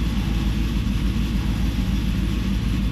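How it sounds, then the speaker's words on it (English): A Pontiac WS6 Trans Am idles steadily, its low, even engine rumble continuous and close throughout with no talk over it. "I will let you guys hear it idle"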